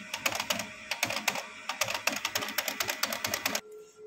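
A Brother HL-3040 laser printer whose drum unit is faulty gives off a rapid, loud rattling clatter. It goes on in quick bursts for a few seconds and then stops, leaving a faint hum.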